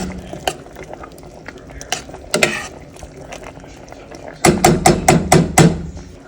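A spoon stirs carrots, noodles and orange marmalade chicken in a pan, making irregular scraping and clinking against the cookware. The sound starts sparse, then quickens into a run of loud, rhythmic knocks near the end.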